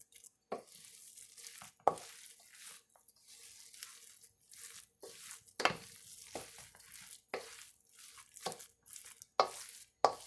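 A veggie burger mixture with beans is mixed in a bowl, producing repeated wet, squelching stirring strokes in irregular bursts with quiet gaps between them.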